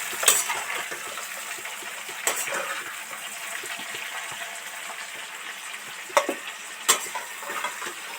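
Cauliflower deep frying in oil in a covered pan, cooked slowly for a fish curry. A soft, steady bubbling hiss runs throughout, broken by a few sharp pops and crackles.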